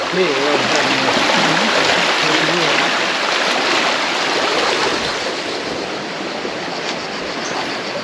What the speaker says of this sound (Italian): si vede sgorgare l'acqua dalla sorgente